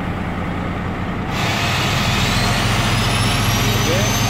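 Tractor-trailer truck engine roaring steadily as it pulls forward against applied trailer brakes, a loud sustained rumble that rises in intensity partway through, with a faint rising whine.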